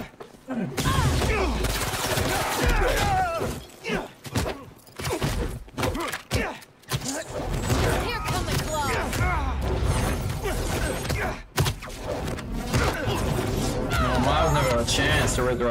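Turret firing bullets in a Spider-Man video game, heard as loud bursts of rapid gunfire and crashing impacts mixed with game music, while a voice talks throughout.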